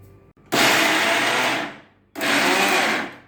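A mixer grinder whirs coarsely grinding dal with coconut, without water, in two loud bursts, the first about a second and a half, then a brief stop and a second pulse of similar length, close and droning.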